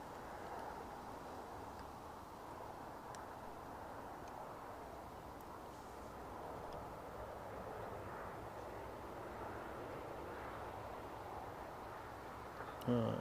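A Boeing 777 on the runway at Newcastle airport gives a steady, distant engine rumble that holds evenly throughout, with faint talk underneath.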